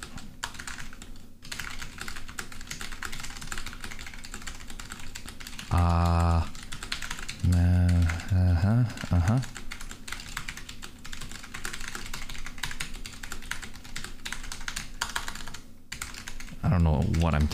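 Rapid, steady typing on a computer keyboard clatters continuously at close range, and voices talk briefly over it a few times.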